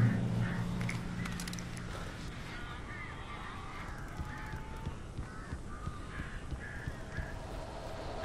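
Several crows caw and croak in the Alan Wake Remastered video game, harsh calls scattered across the scene over a low, steady rumble of ambience.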